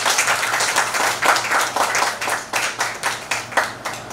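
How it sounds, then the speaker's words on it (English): Rhythmic clapping from a press-conference audience in Mumbai for a film festival announcement, moderately loud with distinct pulsing claps that rise and fall without a break. "A big round of applause, ma'am."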